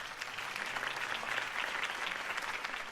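Steady applause from a crowd greets a campaign speech in the Batman Telltale game, a dense, even wash of clapping that holds for the whole moment at moderate loudness.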